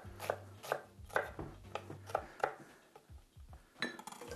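A knife chops onion finely on a board, giving about nine quick, crisp strikes in an uneven rhythm, close and clear, with no voices.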